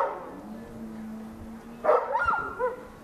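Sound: sled dogs barking at veterinary checkup

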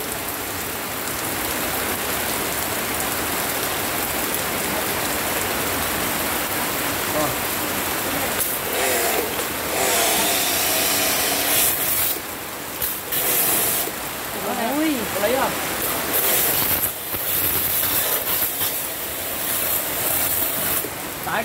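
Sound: home pressure washer spraying water on a car

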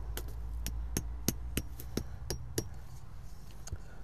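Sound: hammering stakes

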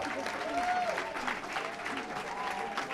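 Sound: audience applause

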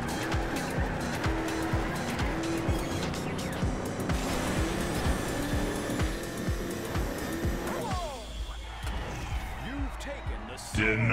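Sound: car drifting with tire squeal in Trackmania video game

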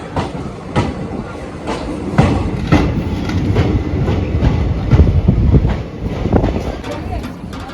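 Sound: moving passenger train

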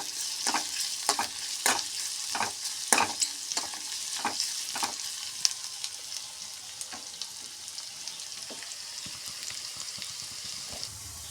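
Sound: shallots frying in oil until browned

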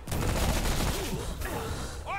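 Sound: gunfire in the video game Remnant

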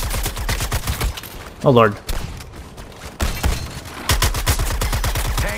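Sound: gunfire shooting at a tank, Suicide Squad video game

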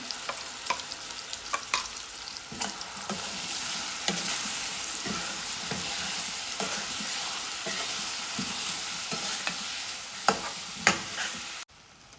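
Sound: masala paste frying in pan

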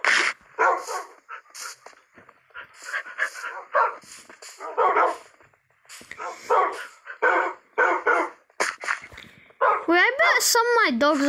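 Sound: dogs barking in video game Minecraft

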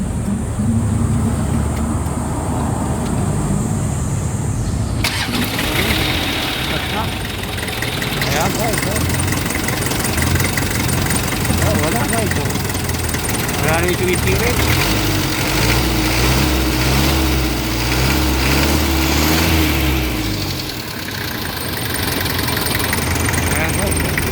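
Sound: car engine starting and idling

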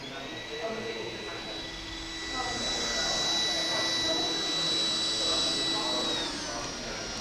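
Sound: iRobot Roomba 980 robot vacuum motor ramping up on carpet

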